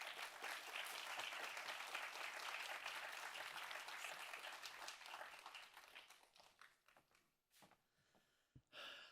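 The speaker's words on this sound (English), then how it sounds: "let's please give a big round of applause to Mr." Conference audience applauding a speaker's introduction, a soft, distant patter of many hands that thins out and fades into scattered claps and room noise toward the end.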